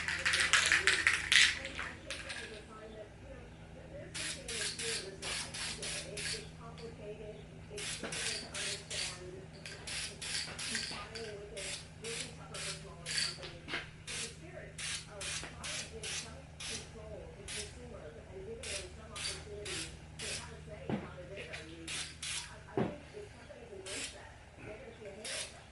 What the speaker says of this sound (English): And we're gonna spray our little cap.